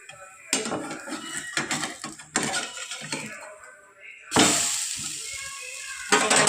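A rava bun dosa is flipped in a hot pan: a few short clattering scrapes and knocks, then a loud, steady sizzle of frying batter close up, with no talk.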